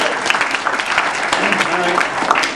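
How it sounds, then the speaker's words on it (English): Audience applause at a speaking presentation as a volunteer comes up on stage, a steady, fairly loud burst of many hands clapping with crowd noise and some voices mixed in. "A round of applause again for Ben."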